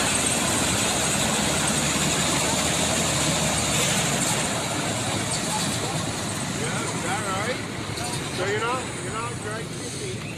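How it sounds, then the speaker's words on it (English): A vintage John Deere Cyclone snowmobile engine idles with a steady, continuous drone, heard close and loud throughout while people talk in the background. "Take a look at this John Deere Cyclone."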